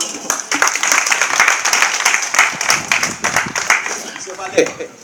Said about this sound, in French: On l'applaudir.